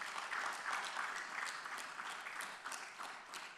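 Audience applause at a city council candidate forum, a steady broadband wash of many hands clapping that holds evenly throughout, moderately loud and unaccompanied by speech.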